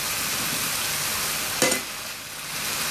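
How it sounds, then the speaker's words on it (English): Button and portobello mushrooms fry in butter, hissing in a steady, even sizzle with one short louder crackle partway through. "these are all the button and the portobello mushrooms are going in now to start to get them cooked away"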